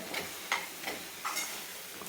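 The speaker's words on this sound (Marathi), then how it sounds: "छान हलवून घ्यायचं आहे आपल्याला एकजीव करून घ्यायचं आहे" A besan barfi mixture of gram flour is stirred in a pan, a spoon scraping in several soft, evenly spaced strokes over a faint sizzle, close and quiet with no talk.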